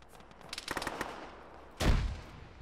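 A frag grenade goes off in the video game Arma, one loud, deep, close blast near the end, preceded by a quick burst of crackling gunfire, with no speech.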